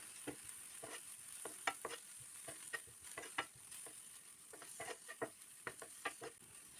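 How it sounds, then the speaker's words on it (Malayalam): Coriander, chili and garam masala powders are stirred in a pan, heard as a faint background sizzle broken by repeated short scraping strokes of a spoon in an uneven rhythm. "ഒരു ടീസ്പൂൺ മല്ലിപ്പൊടിയും അര ടീസ്പൂൺ മുളക് പൊടിയും അര ടീസ്പൂൺ ഗരം മസാല പൊടിയും ചേർത്ത് പൊടികളുടെ എല്ലാം പച്ച ടേസ്റ്റ് മാറി കിട്ടുന്നിടം വരെ ഇളക്കി കൊടുക്കണം"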